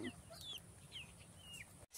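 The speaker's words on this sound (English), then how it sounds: "that one's a rooster" A rooster in a backyard garden gives a few quick clucks and short, rising chirpy calls, close and fairly quiet over a low background murmur.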